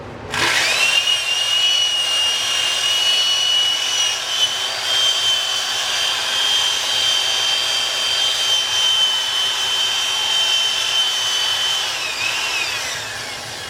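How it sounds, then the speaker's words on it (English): Sandpaper of 1000 grit pressed against wood spinning on an old variable-speed lathe gives a steady, loud whine and hiss that holds evenly for about twelve seconds before tapering off, with no voices. "put the locking pin in my chuck and I just sand away"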